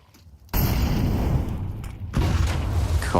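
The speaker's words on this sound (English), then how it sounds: "timing of that incendiary could not have been better from Fame." An incendiary grenade bursts during a Counter-Strike esports match, a sudden loud whoosh of flames that keeps roaring as a dense crackling burn, with a second surge partway through and game sounds underneath.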